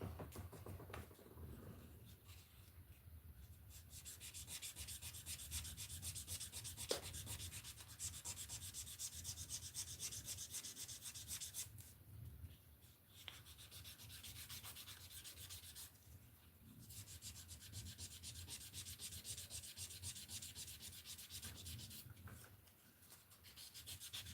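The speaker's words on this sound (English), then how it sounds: "This 600 grit sandpaper I ordered kind of sucks." Hand sanding with 600 grit sandpaper, a steady close rasping rub that runs continuously for the whole stretch, with only brief pauses between strokes and no talking.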